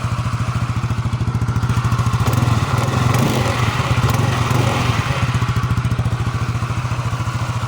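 A Yamaha Mio MXi 125 fuel-injected scooter engine runs steadily up close, its rapid pulsing beat joined by clattering, rattly noise from a worn, noisy transmission, with no speech over it.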